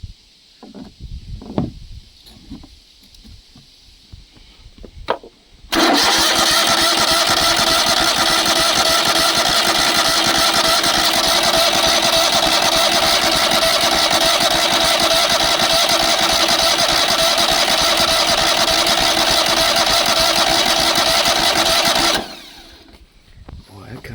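An abandoned crane's engine cranks in a long, steady, loud mechanical churn lasting over fifteen seconds, preceded and followed by quiet clanks and handling noises.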